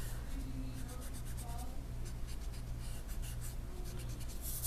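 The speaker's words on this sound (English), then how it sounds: "Sometimes I draw a lot of lines until I get the right ones." Pencil lines sketched repeatedly on paper while drawing a cup, a steady soft scratching that carries on throughout over a low constant hum.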